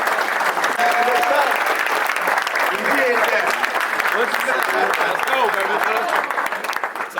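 Sustained audience applause and cheering for Golden Child and the Unity Movement at a Chicago community award, loud and continuous throughout, tapering slightly at the end.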